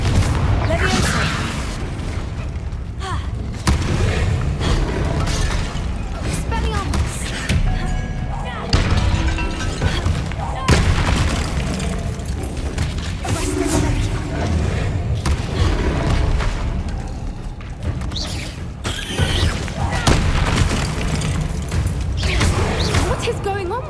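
Confringo blasting spells explode repeatedly in the video game Hogwarts Legacy, loud booms and thuds landing one after another through dense combat noise, with a voice talking over much of it.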